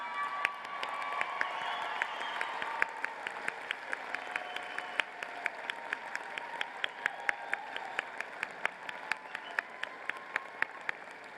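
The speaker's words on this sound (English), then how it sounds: "please stand up and give a big round of applause for your families and friends" Sustained applause from a large commencement audience in a big hall, many hands clapping with a few sharp, distinct claps standing out nearby and faint cheering mixed in.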